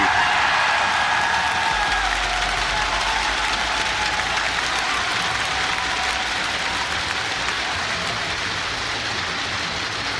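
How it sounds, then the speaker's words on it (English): A large live crowd applauds and cheers at a Rainbow Six Siege esports announcement, a dense, loud, continuous roar of clapping that holds steady throughout. "Got a lot of cheers from the crowd."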